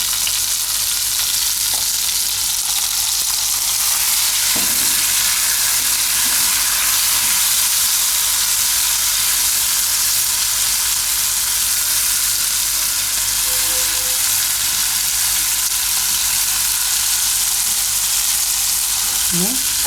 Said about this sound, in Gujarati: થોડોક લીમડો નાખશું અને થોડીક વાર પકાવી લેવું.